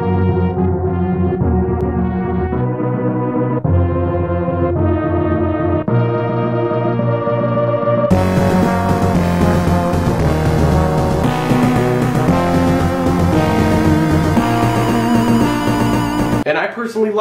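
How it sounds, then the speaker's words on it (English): Super Metroid game music rendered through a Sega Genesis sound chip, with steady synthesized tones and chords that swell into a louder, denser, heavier section before cutting off abruptly, played alone without talking. "you can hear how the game would have sounded if they had stuck it into Genesis"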